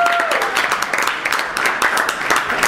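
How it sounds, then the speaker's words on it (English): A comedy show audience claps for volunteers in a steady, dense round of applause that fills the room throughout. "Round of applause"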